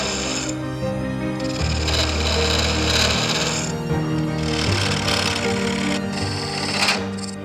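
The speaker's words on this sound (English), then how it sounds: "I'm making pretty light passes with these carbide tools" Carbide tools take light passes on wood spinning on a lathe, producing a steady, dense whir with scraping and humming tones that continues throughout.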